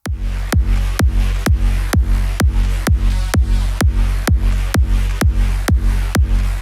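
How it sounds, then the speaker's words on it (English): A big room EDM kick layered with a mid bass, made in FL Studio in a Maddix-style drop, thumps in a steady four-on-the-floor pulse, loud and up front, each hit followed by a tonal bass tail, with no voices. "So with the big room kick with the mid bass sounds like this."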